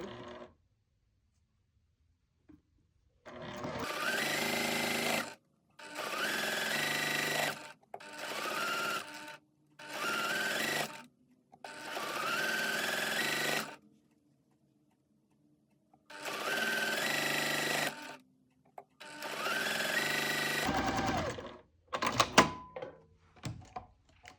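A sewing machine chain-pieces quilt units for a mug rug, running in seven or eight separate bursts of fast stitching with short pauses between them, close and clear.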